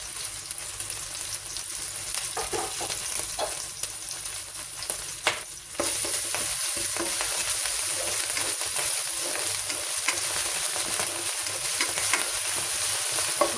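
Garlic fries and sizzles in a pan, a constant loud hiss broken by scraping stirs, with the sizzle growing louder partway through.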